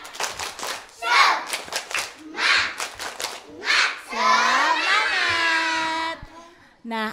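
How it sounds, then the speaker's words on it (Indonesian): Kindergarten children at a school holiday event clap and chant in a rhythmic spirit clap, several short group bursts followed by a longer sustained shout, loud and close, with children's voices throughout. "Tepuk semangat."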